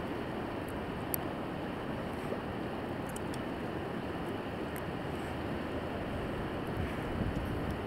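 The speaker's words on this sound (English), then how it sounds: "Very windy day. I'm sure you guys can probably hear it on the audio." Strong wind blows over the James River on a winter day, buffeting the microphone with a constant low roar and rumble that lasts throughout, with no voices.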